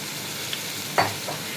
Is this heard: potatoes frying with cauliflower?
yes